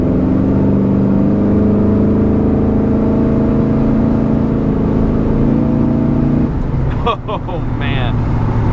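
A 1985 Chevrolet C10 pickup with a 383 V8 drives along, its deep engine drone loud and steady for several seconds before the rumble shifts and wind buffets the microphone near the end.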